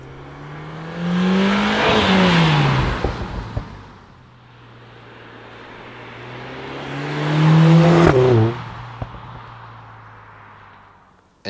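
A Mercedes GLA 45 S AMG driven fast, its engine swelling in two loud revving surges with rising and falling pitch, with brief tyre and gear-change sounds in between and no talk.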